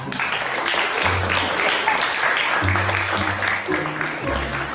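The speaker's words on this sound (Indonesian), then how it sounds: "Berikan tepuk tangan dong buat Ananta." A crowd claps steadily throughout, a dense patter of applause with a few low voices murmuring underneath.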